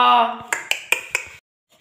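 Ceramic dishes and metal utensils clink and clatter in a kitchen being tidied, about five sharp knocks in quick succession, close and fairly loud, after a brief stretch of voice at the start.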